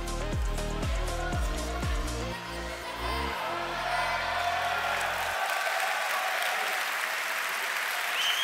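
Audience applause fills a judo or jiu-jitsu competition hall for the first final over 60 kg, a steady dense wash of clapping that continues after music fades out early on.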